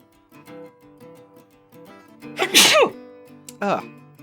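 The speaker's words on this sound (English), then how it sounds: "That was a sneeze." A single loud, close sneeze bursts out over quiet background music, followed about a second later by a shorter second burst.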